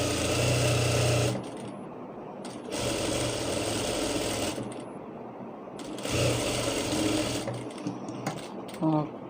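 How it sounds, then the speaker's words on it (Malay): Sewing machine stitching fabric for a hair scrunchie, loud steady whirring bursts of rapid stitching separated by brief pauses, close up with no talking over the machine. "Jadi kita jahit sampai 1 inci sebelum yang kita mulakan jahitan tadi."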